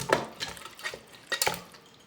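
One kilogram of washed chicken pieces is tipped into a cooking pot for chicken biryani, giving a few sharp metallic clinks and scraping knocks against the pot, spaced irregularly and fairly quiet.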